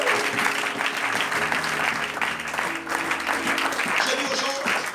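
A church congregation applauds in sustained, dense clapping to acclaim the Lord, with voices cheering and calling out over the steady applause.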